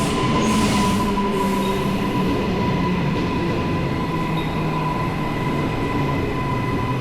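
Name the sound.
commuter train on Cleveland line, Brisbane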